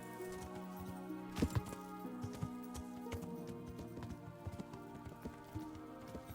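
Faint horse hooves clip-clop in a steady rhythm over a quiet bed of tones in the video game Kingdom Come: Deliverance, with a few sharper knocks standing out.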